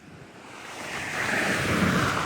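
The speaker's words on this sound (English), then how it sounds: "But here comes the gust again." A gust of wind roars across the microphone during a strong storm squall line in southern Ohio, a broad rushing noise that swells and stays loud throughout, with no voices.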